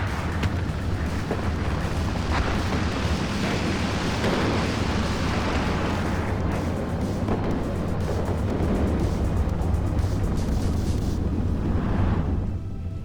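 MLRS missile barrage explosions in the WARNO war game: a sustained, rumbling roar of overlapping distant blasts with heavy low-end thunder, rolling on without pause for many seconds before thinning out near the end.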